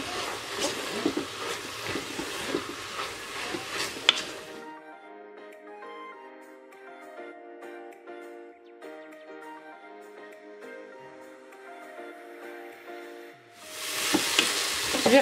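A vegetable filling with a pinch of chili stirred in a Monsieur Cuisine Smart kitchen machine: sizzling and scraping at first, then a steady whirring motor hum for about nine seconds before the sizzle returns.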